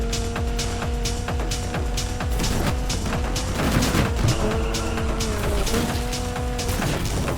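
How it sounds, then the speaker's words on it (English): Crash in Need for Speed Unbound: a steady roar of engine and traffic carries repeated hard impact thuds and crunching hits, loudest around the middle, with tonal engine whine throughout and no clear talk. "Suspect's car is a total wreck"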